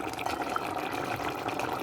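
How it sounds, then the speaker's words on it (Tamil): Hot water pours steadily into a cooking pot of potatoes, a continuous close splashing gurgle throughout. "அப்போ நான் கொஞ்சம் சுடு தண்ணி தான் போடுறேன்."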